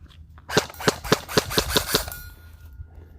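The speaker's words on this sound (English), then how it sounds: "It shoots 6mm airsoft BBs." An airsoft gun firing 6mm BBs at Krate Tactical steel targets, a quick run of about seven sharp snapping shots with ringing metallic pings from the steel, close and evenly spaced.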